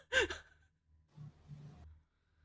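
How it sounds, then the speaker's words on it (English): A single close, drawn-out human yawn: a short voiced opening followed by a longer breathy exhale, with no talk alongside. "Sorry, I'm yawning."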